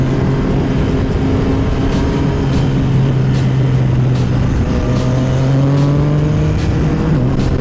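A Yamaha MT-09 motorcycle ridden on a race track, its engine holding a steady, loud drone that rises and falls in pitch as it accelerates, with other riders sharing the circuit.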